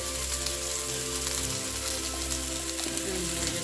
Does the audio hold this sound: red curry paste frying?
yes